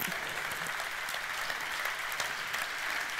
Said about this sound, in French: nous leur sommes très reconnaissants et on peut les applaudir.